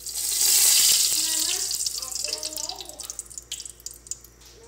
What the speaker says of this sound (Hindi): अब हम ऑयल डाल देंगे।